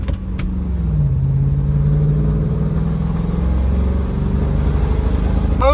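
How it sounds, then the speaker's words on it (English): A Mustang V8 with a big cam and a Hurst short-throw 5-speed idles with a loud, lumpy, steady rumble up close, the low choppy pulse holding throughout with no talk. "you can actually see the car bouncing just from the big cam rumble"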